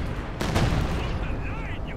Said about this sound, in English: I'm calling down some artillery barrage there